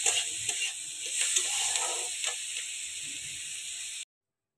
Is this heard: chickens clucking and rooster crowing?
no